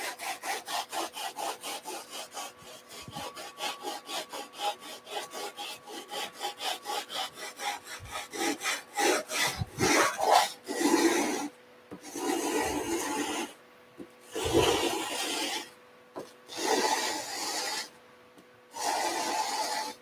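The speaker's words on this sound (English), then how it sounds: "we have a bit of sanding to do" Steady rhythmic rasping of sandpaper on wood, fast back-and-forth strokes at first, then longer, slower passes with brief pauses between them.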